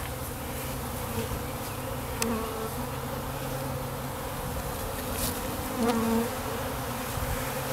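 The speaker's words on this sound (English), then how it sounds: "there's a lot of bees flying in the air." A steady, dense buzzing of many bees fills the air, constant and close, with a few individual insects droning louder as they pass.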